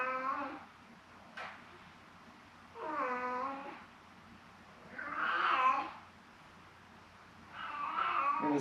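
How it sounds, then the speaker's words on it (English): A house cat meows in distress, three drawn-out, wavering cries spaced a couple of seconds apart, close and fairly loud with quiet gaps between them. "And his meow sound distressed."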